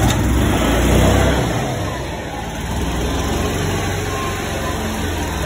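Club Car golf cart gas engine held at wide open throttle while parked, a loud, steady close-up roar that swells slightly at first and then settles into an even drone.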